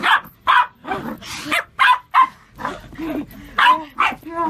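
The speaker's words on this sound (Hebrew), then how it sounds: "הכלב של קייטי פרי היה יותר עצבני כאשר פיצה גדולה אימה עליו" A dog barks angrily at a large pizza, giving a series of sharp, loud bursts of barking and yips spaced irregularly, with a few whimpering, growling tones between them.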